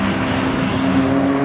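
Cars pass by on a busy street in Ocean City, Maryland, a steady roar of engines and tires with a sustained tone, fairly loud and close.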